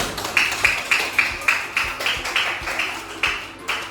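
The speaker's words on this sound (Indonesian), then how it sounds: "Kita kasih tepuk tangan dulu." Elementary classroom clapping for a pupil named Diva: a steady run of roughly a dozen rhythmic claps, close and moderately loud, with no talking over them.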